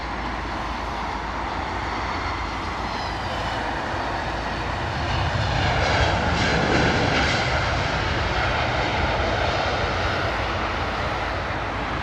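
A British Airways jet departing Heathrow for Glasgow gives a loud, sustained engine roar that swells midway as it climbs out, broad and steady with no talking over it.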